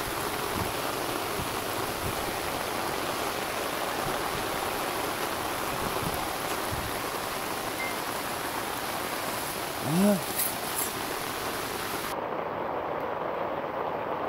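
Steady rain falls during hand-line fishing outdoors, a dense even hiss that runs continuously and fairly quietly, with a brief splash or tug partway through and no clear talk.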